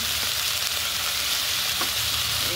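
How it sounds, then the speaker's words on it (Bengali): Spices and salt frying in hot oil for a river pabda fish curry, giving a loud, steady, close sizzle that holds evenly throughout with no talking. "এই যে মশলাগুলো দিয়ে দিলাম তেলে, ছেড়ে দিলাম আস্তে করে"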